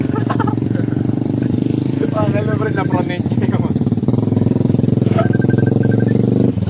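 Steady motorcycle engine idles and runs close by for the whole stretch, with casual Filipino chatter and talk from several people over it at a house party.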